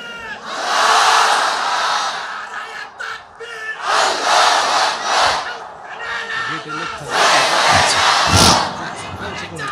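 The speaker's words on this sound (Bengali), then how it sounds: "সবাই একটা তাকবীর দেন, লিল্লাহি তাকবীর।" A large crowd at an Islamic sermon shouts the takbir in unison three times, each roar loud and rising then fading, with brief quieter gaps between the chants.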